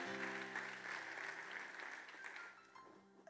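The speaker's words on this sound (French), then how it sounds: "On va applaudir le Seigneur" A church congregation at a baptism service applauds, a steady wash of clapping that holds for a few seconds before tapering slightly, with faint voices and a sustained tone underneath.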